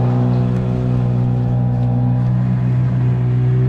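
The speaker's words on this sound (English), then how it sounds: "I don't know if you hear me over the motor" A small motor pushing a kayak on a lake while trout fishing, humming loud and steady nearby with a constant droning tone.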